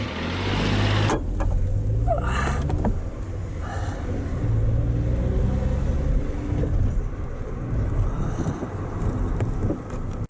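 A car engine running steadily and pulling away, a loud continuous motor rumble with a low hum throughout, a few thuds near the start and no speech.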